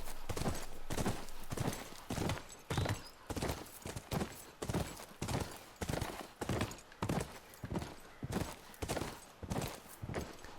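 Horse hooves clip-clop at a steady walking pace in The Last of Us, a rhythmic series of hollow thuds over a gritty, noisy background.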